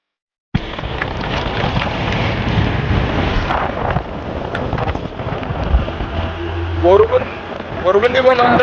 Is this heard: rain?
yes